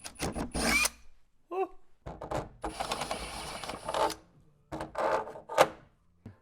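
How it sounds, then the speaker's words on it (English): A power drill bores holes into a metal plate during a truck camper heater install, with short bursts of whining drilling separated by pauses, clunks and handling noises close by. "we're going to drill 2 holes. We're just going to drill this one"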